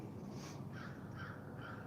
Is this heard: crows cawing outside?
yes